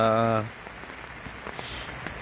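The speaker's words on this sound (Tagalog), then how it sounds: "Inabot kami ng ulan. Mahina lang naman siya, walang hangin." Light rain patters steadily on a surface at a beach campsite in Lobo, Batangas, Philippines at night, after a brief voice at the start, with scattered soft drops and no wind.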